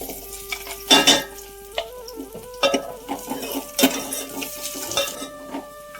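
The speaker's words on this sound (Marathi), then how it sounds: "तर या कांद्याला लाल पण भाजून घ्यायचंय." Chopped onion frying in a pan for dal, punctuated by loud metal clanks and spatula scrapes at irregular intervals over a thin sizzle, with a faint steady tone running underneath and no speech.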